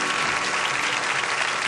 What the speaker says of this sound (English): Don't get up and take a bow just because you hear applause.